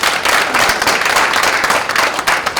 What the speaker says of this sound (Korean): 우리가 다 같이 함께 박수를 보내주시면 좋겠습니다